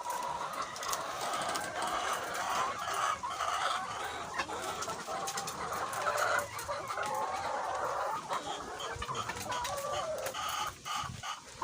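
A flock of Dekalb White layer hens about 22 weeks old, clucking and chattering continuously in a poultry house, a dense, busy murmur of many birds at moderate distance.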